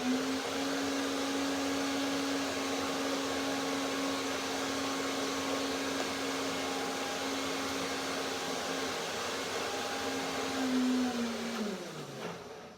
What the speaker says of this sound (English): I will blend one more time